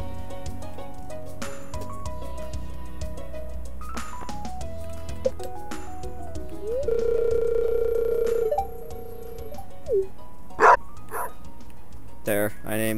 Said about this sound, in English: There, I named the fucking dog Patton.